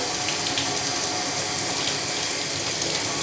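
Cold water runs steadily from a faucet into a sink during a home inspection, a constant close splashing rush with no talk over it.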